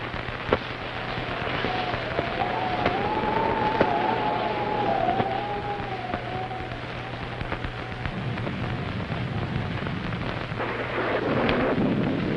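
Steady rain pours in a nighttime scene, with low rumbling thunder beneath it and a few sharper cracks, a continuous wash of sound with no talking.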